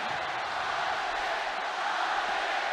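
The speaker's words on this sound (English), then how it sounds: "you can hear the stage behind them, the crowd roaring" A large esports stage crowd at a League of Legends Rift Rivals match roars in a loud, sustained wash of cheering that holds steady for a few seconds.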